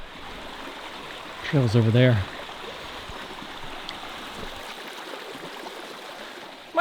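A calm stream flowing along a hiking trail in Savage Gulf makes a steady, soft rushing wash that runs the whole time. Someone speaks briefly over it near the start.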